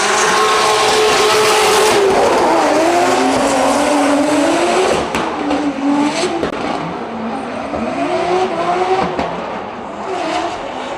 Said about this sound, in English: you can hear some cars running and driving and revving